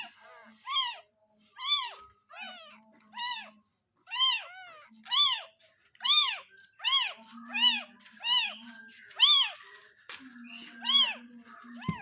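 A small kitten meows repeatedly, high and thin, in a string of insistent cries a second or so apart, with a faint low voice murmuring between them.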